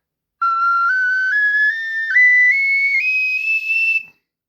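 A Focalink Stein Mini F sopranino ocarina plays a rising series of shrill, pure notes as breath pressure increases, one continuous tone stepping upward for about four seconds, close and clear with no talking.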